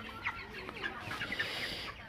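A flock of broiler chickens clucks steadily, overlapping soft calls and murmurs at moderate volume with no voices.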